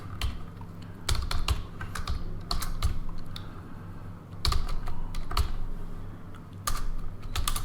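Fingers type on a computer keyboard in a command window, a close run of crisp clacking keystrokes in uneven bursts with short pauses between, no voices present.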